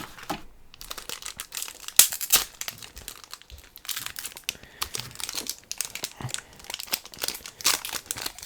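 A Pokémon card booster pack wrapper is cut open, with crisp foil crinkling and rustling in irregular bursts and sharp snips, close and fairly loud, with no talking.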